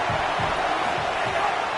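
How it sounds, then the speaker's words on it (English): Football stadium crowd roaring and cheering during a second-down play, a dense, steady wall of noise with rhythmic low surges throughout, close and loud. "this crowd is turning it up a notch"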